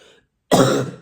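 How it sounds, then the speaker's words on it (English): A single harsh cough or throat-clearing bursts out close and loud after a brief moment of quiet. "so a lot of coughing"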